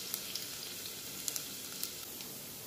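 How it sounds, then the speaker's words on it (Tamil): Chopped garlic sizzles steadily in hot sesame oil with mustard seeds, a continuous crackling fry with scattered small pops, close and unaccompanied by speech. "ஸோ எண்ணெய் சூடானதுக்கப்புறம் கடுகு பொரிஞ்சதுக்கப்புறம் கட் பண்ணி வச்சுருக்க பூண்டு."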